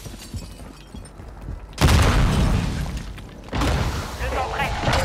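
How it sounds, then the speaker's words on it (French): Two heavy blasts from a grenade in the Call of Duty Modern Warfare II video game, each a loud booming burst with a rumbling tail, the second following about two seconds after the first. "J'envoie une grenade."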